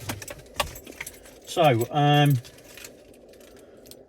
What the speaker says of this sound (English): there are 2 keys, full size, and then there are keys for the roll and lock as well